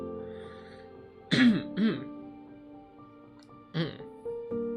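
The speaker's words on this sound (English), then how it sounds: "Hold on, let me clear my throat." A person clears their throat a few times in short, gruff bursts against a quiet steady hum.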